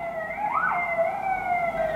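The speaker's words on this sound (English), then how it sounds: "Sirens." Emergency vehicle sirens pass outside, a loud wailing tone that sweeps up and then holds steady across the whole stretch, with no voices over it.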